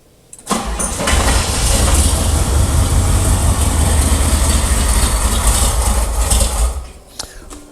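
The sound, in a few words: Oldsmobile Rocket V8 engine running in square body truck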